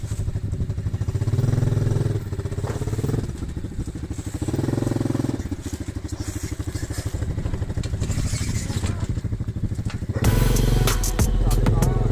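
A Konik 125 ATV engine runs with a rapid, rhythmic putter while the quad is unloaded, loud and close with rising and falling revs and some clatter, and a voice briefly heard alongside.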